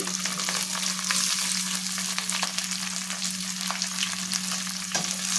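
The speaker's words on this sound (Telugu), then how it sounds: "ఇప్పుడు ముందుగా మనం ఒలిచి పెట్టుకున్న చిక్కుడుకాయ ముక్కలు వేసేస్తున్నానండి" Pieces of shelled flat broad beans (chikkudu) frying in a pan give a steady, close sizzle that runs unbroken throughout, with faint scraping of stirring and no voices.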